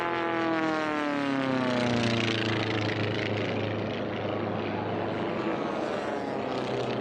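Several propeller aircraft fly past at a pylon air race, a loud droning engine tone that sweeps downward in pitch as they pass close by, then settles into a steady, broad roar for the remainder.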